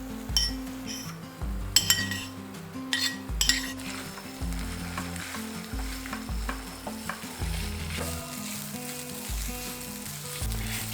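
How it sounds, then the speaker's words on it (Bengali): Soybean mince frying and being stirred in a pan over medium flame after ginger paste, with steady sizzling broken by repeated scraping and clinking of a utensil against the pan, close and fairly loud. "সয়াবিনটাকে এইভাবে মিডিয়াম ফ্লেমে রেখে 2 মিনিটের মতন ভাজা ভাজা করে নিয়েছি"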